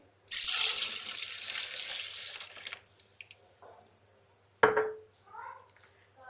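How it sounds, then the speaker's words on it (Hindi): Milk poured into a grinder jar for a chocolate Oreo shake, a loud rushing pour lasting about two seconds that tails off into faint dribbles, followed by a short clatter and a few quiet sounds near the end. "इसमें हम दूध मिक्स करेंगे।"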